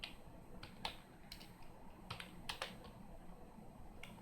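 Someone types HTML code on a computer keyboard: scattered, irregular clicky keystrokes, some in quick pairs, close but quiet against a soft background hiss, with no talking.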